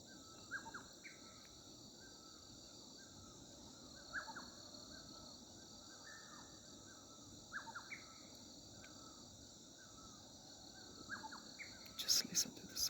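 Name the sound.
birds chirping and crows cawing in the morning, Kalimpong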